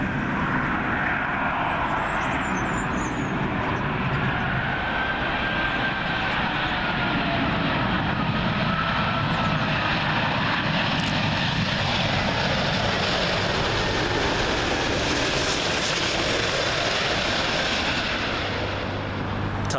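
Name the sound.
British Airways Airbus A380 arriving from Dallas at Heathrow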